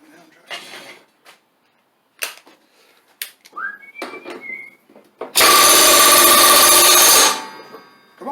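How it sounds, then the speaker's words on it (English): A heavy air impact wrench tightens the blade nuts on a Craftsman LT2000 mower deck: one loud, close burst of roughly two seconds, preceded by scattered handling clatter and a short whistle. "I am going to use my heavy impact to put the blade nuts on with."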